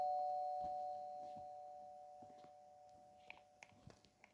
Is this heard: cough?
no